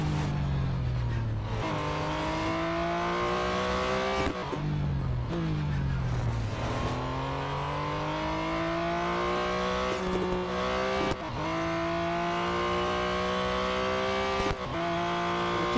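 A Chevrolet Corvette C7.R race car engine in the Real Racing 3 racing game revs up and shifts gears repeatedly, each rising whine dropping at the shift, loud and continuous without talk.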